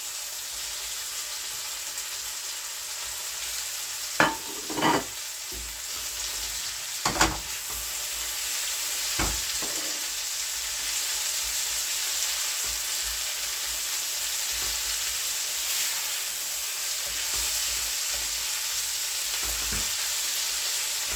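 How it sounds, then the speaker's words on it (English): Saltfish frying in a pan makes a constant close sizzle and crackle for a long stretch, broken by a few sharper scrapes and stirring knocks, with no talk. "we're going to let that saltfish fry up a bit"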